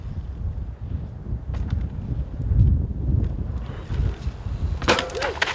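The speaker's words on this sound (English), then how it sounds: "it's super windy" Strong gusty wind buffets the microphone on a mountain bike line, with low rumbling blasts rising and falling throughout, then a sharp burst of noise near the end.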